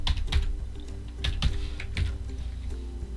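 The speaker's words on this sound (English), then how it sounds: "Let's type YouTube." Keys on a computer keyboard are tapped in a quick, uneven run of close clicks, fairly quiet and with no voice over them.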